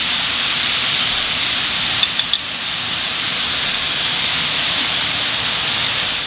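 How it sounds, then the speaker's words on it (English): Beef stir-frying on high heat with oyster sauce in a pan gives a strong, steady hiss and sizzle, loud and continuous, with a few brief clinks of a utensil partway through. "I'm going to continue cooking this on high until the beef is halfway through cooking"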